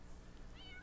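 A cat meows in The Sims 4 life simulation game, a short soft call over a faint steady background, with no talking.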